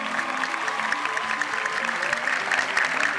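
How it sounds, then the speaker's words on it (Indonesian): Members of the media applaud at a press event for a football mini tournament at Jakarta International Stadium, a steady wash of clapping from a room of people with a voice speaking over it. "Boleh tepuk tangan sekali lagi rekan-rekan media?"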